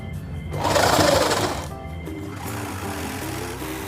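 A sewing machine stitches lehenga lining with a continuous close mechanical whir that swells briefly louder and then settles into a steady run.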